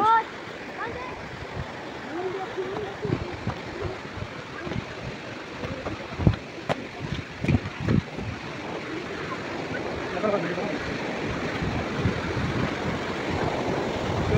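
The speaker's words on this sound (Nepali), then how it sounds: "झरनाको पानी कलकल कलकल" A continuous rushing roar of falling water from a large waterfall at Namaste Jharna, Dharan, broad and steady, with faint voices and a few knocks partly under it.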